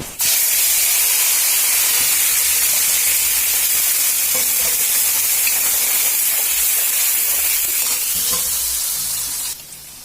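Onion paste frying in hot oil for a jackfruit kofta curry, a loud, steady close sizzle and hiss that starts abruptly and runs continuously for about nine seconds before cutting off.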